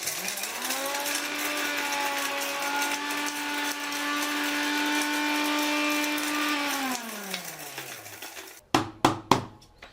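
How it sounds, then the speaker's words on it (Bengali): A grinder whirs steadily as it powders dry-roasted whole spices: nutmeg, mace, cinnamon, cardamom, cumin and pepper. The motor then winds down and is followed by a few sharp taps. "একটুখানি হালকা ড্রাই রোস্ট করে নিয়েছি এবার এটা পাউডার করব"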